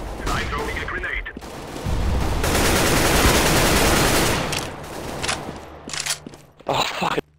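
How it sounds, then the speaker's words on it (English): Gunfire and an exploding grenade in the video game CS:GO, a sustained loud blast roaring for a few seconds amid clattering shots and game noise, with players talking over it. "I'm throwing a grenade."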